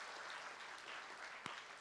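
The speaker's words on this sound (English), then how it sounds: "Let's give her another round of applause." Applause from a school graduation audience for a young girl's performance, a steady, fairly faint wash of clapping with no voices over it.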